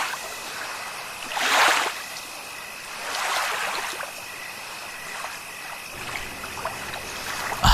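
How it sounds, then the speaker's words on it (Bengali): A cartoon sound effect of a boat gliding through river water: soft, rushing splashes swell up twice over a steady watery hiss, then a low rumble joins near the end. "নৌকা ছল ছল শব্দ করে চলতে লাগলাম"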